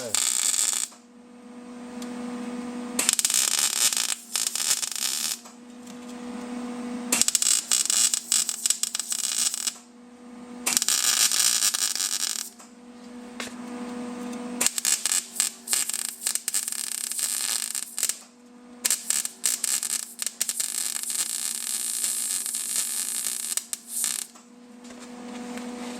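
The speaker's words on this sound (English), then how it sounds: "I use my left hand to support the nozzle of the MIG welder" Bursts of MIG welding on a steel panel, a crackling, buzzing arc sounding in several separate runs of a few seconds each, separated by short pauses, loud and close.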